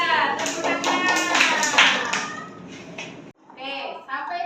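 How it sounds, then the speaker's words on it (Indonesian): A classroom applauds a student from group 3, with a burst of many hands clapping for about three seconds, then a short pause and a few more claps as it dies down. "Tepuk tangan untuk Mas Deva kelompok 3."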